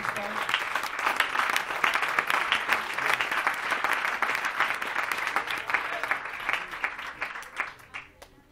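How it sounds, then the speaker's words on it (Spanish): A church congregation breaks into sustained applause, a thick, even patter of clapping that stays strong for several seconds before thinning out into scattered claps near the end. "Denle un aplauso al Señor Jesucristo"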